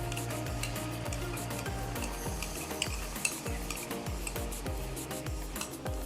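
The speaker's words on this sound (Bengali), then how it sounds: "একটু নাড়িয়ে নেব।" A spoon stirs spices with beaten curd, cashew paste and ground chili in a hot cooking pan for paneer curry, rhythmic scraping strokes over a soft sizzle, close up with no talking.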